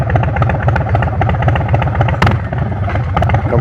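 A 2026 Harley-Davidson Street Bob 117 motorcycle idling warm, a loud close rumbling engine with a steady uneven lope and a brief clatter partway through.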